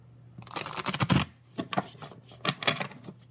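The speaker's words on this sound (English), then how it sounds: "We'll do one more shuffle." Tarot cards being shuffled by hand during a tarot reading, a few bursts of riffling and slapping separated by short pauses, close and fairly quiet with a low steady hum beneath.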